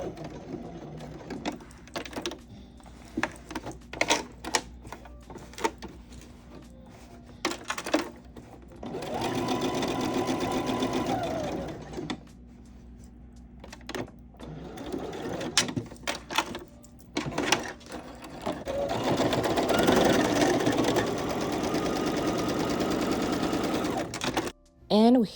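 A sewing machine stitches lace onto denim patchwork in rapid bursts, short clattering runs at first, then two long steady whirring passes, close and loud.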